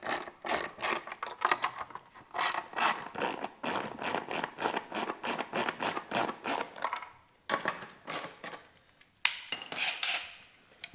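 Four 10mm nuts are worked off a Talaria Sting R seat bracket with a ratchet, giving rapid metallic clicking bursts that come in quick trains separated by brief pauses, close up and fairly quiet.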